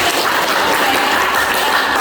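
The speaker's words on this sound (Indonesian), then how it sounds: "Oke, tepuk tangan." Schoolchildren in a classroom applaud together, a loud close wash of many hands clapping steadily with no talk over it.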